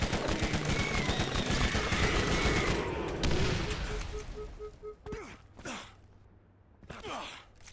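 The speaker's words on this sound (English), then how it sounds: "Hope you guys like the SMG shooting sound." Rapid submachine gun fire in the video game Borderlands, a dense loud burst of shots for the first few seconds, then a few scattered sharp hits and tonal game effects.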